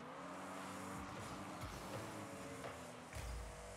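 A car engine in a fast car-ball video game hums and revs at a low, steady level, with a few faint surges, far in the background with no talk.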